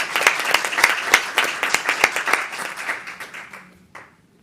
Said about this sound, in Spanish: Un aplauso primero para vos